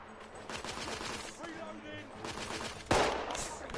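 Sniper gunfire in the video game The Order: 1886, a sharp shot cracking out near the end over a busy background of game sound and ambience.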